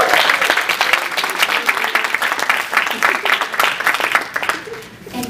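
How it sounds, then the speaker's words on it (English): A crowd applauds steadily, dense clapping filling the room for several seconds before thinning slightly near the end. "So let's give them all a round of applause."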